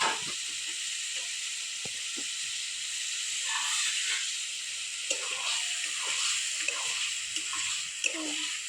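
Potatoes sizzling in a spice masala in a pan, a steady close hiss of frying with occasional soft stirring bumps and crackles.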